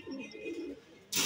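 A Madrasi lalpotiya pigeon gives a soft, low throaty coo in a short rolling phrase, faint and close, followed by a brief burst of hiss or rustle at the end.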